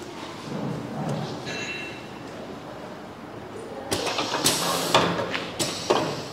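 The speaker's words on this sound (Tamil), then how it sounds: "இப்போ வெல்ட் ஆகிட்டு இருக்கு." A machine heat-welds a UPVC window frame joint with a steady mechanical hum and hiss, followed by louder bursts of pneumatic release and clunks toward the end.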